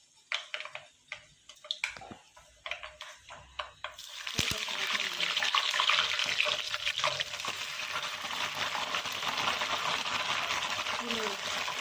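Curry leaves hit hot oil already frying fenugreek seeds, and a sudden loud, dense crackling sizzle erupts after a few seconds of light clinks and taps, then keeps spitting steadily up close.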